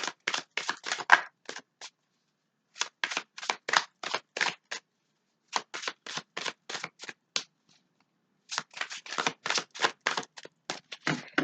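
Tarot cards shuffled by hand in bursts of rapid, crisp riffling clicks, separated by short pauses, close and fairly loud, with no talk over them.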